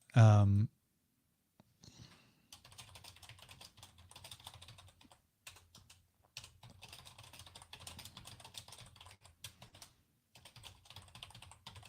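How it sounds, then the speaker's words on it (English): Close-up typing on a computer keyboard, quick bursts of clicking keys broken by short pauses, after a brief loud sound at the start. "Sorry, I'm typing."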